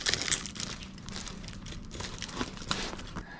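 Product packaging for a Suparee Hyper5 being cut open and unwrapped, with close crinkling and rustling of plastic and paper in irregular bursts and a few brief tearing sounds, no talking.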